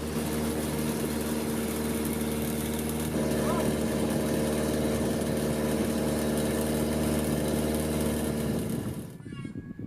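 A riverboat engine on the Nam Ou River in Laos drones loudly and steadily, a constant low rumble with vibration, cutting off abruptly near the end.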